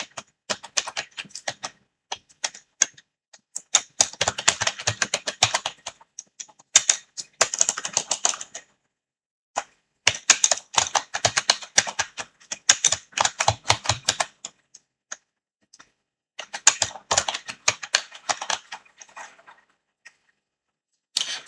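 Keyboard typing of an address into an online e-challan form, in bursts of rapid clicky keystrokes separated by short pauses, close and fairly loud with no talking.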